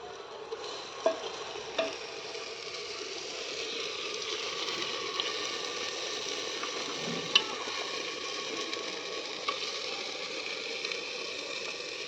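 A 1.25 kg batch of mutton sizzles steadily in a handi pot, with a constant frying hiss and a few faint clinks and stirring sounds throughout.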